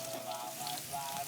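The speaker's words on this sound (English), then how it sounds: "The rain is slowly coming down." Light rain patters steadily on an outdoor barbecue set up for cooking curry, a soft, faint, even hiss of drops with no talking.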